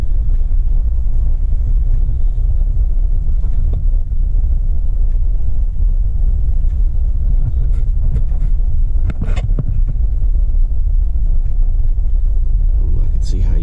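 A Polaris RZR side-by-side drives with a steady, loud engine rumble running the whole way, rough with wind buffeting and a few brief knocks.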